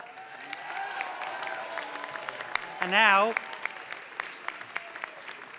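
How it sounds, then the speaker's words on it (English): Steady applause from a large university commencement crowd, continuous clapping throughout with a brief louder burst in the middle. "please stand so we may recognize you with a much-deserved round of applause"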